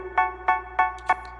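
Plucked synth patch in FL Studio with its decay turned down, four short bright notes struck at an even pace, each fading quickly, alone with no voice.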